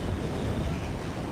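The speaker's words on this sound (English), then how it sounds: "Yeah, it's rather windy." Gusty wind buffets the microphone outdoors among buildings in a valley, a dense, loud roar that holds steady through the short moment with no voices.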